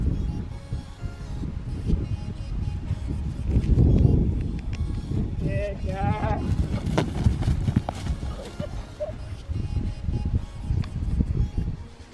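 Hooves of a former racehorse beat a steady trot on the ground, close and continuous, with wind and a rider's occasional voice mixed in.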